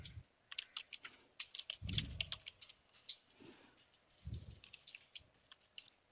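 Fingers type commands on a computer keyboard in a Terminology terminal on Ubuntu, a quiet, close run of irregular key clicks in small bursts, with a few soft thumps and no voice.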